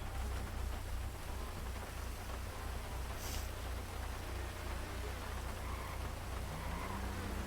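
Steady rain pours down outdoors, a dense, even hiss that holds for the whole stretch with a low droning hum beneath it and no voices.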